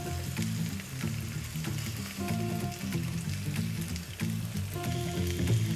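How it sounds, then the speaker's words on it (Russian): Lamb sizzling steadily on a nonstick grill-style frying pan, a continuous close frying crackle with a low background hum and no talking. "Сначала обжариваем на одной стороне."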